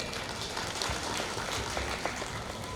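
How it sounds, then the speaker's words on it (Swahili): Crowd applause at a technical institute graduation ceremony, a dense steady wash of clapping that stays loud and even throughout, with no speech over it. "Wapigieni makofi tena."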